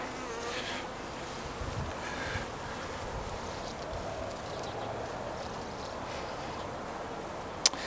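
Honeybees buzzing in an open hive during a spring inspection, a dense steady drone close up and filling the whole stretch, with a single sharp knock near the end.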